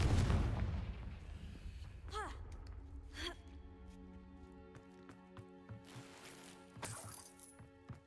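A Confringo blasting spell from Hogwarts Legacy erupts in a loud, broad burst at the start, followed by a few sharper cracks and ringing, chiming effects that fade into a quieter tail.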